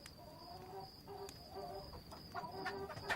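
A small black hen clucks softly in a quiet farmyard, with a run of short, faint clucks at a middle distance and no voices.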